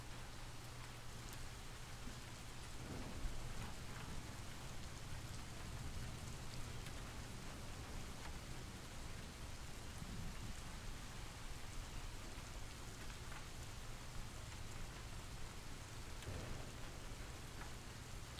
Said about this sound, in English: it's actually hard to tell that the rain is not coming from outside